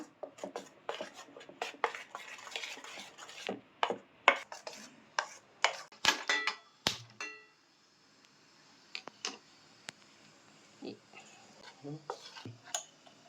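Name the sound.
stirring motichoor laddu batter smooth without lumps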